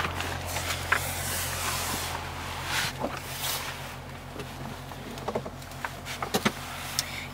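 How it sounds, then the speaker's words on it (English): The power sunroof motor of a 2016 Dodge Challenger R/T Scat Pack runs with a steady electric whir inside the cabin, joined by a few light clicks and taps near the end. "You see there you have your power sunroof."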